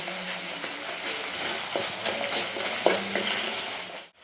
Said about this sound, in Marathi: एक ते दीड चमचा हळद टाकते आणि हे दोन चमचे धण्याची पावडर टाकते ते परत हलवून घ्यायचं